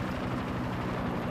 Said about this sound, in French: C'est un hélicoptère d'ailleurs ennemi.